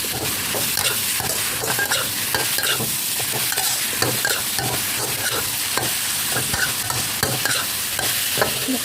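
Minced pork with holy basil stir-fried in a pan, a loud close sizzle carrying a steady run of rapid scraping and clattering from the spatula throughout, with no voices.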